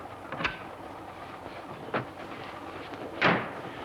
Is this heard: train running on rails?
yes